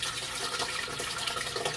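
Pineapple juice pours from a large 46-ounce can into a pitcher, a steady close liquid splash and trickle running throughout with no talk.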